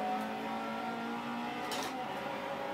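A Ferrari F40, a big-horsepower turbocharged car in Forza 4, holds a steady engine drone with layered harmonic tones, fairly faint and continuous, with a brief hiss-like burst near the end.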